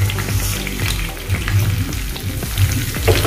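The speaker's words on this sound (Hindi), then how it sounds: "और अच्छे से अभी इसको भूनेंगे घी में।" Vermicelli roasting in melted ghee, giving a steady close sizzle with soft scraping stirs and small crackles throughout.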